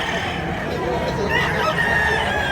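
A year-old stag rooster of a Cebuano seller's fowl crows amid a busy, noisy setting, with a steady background hum and some nearby voices.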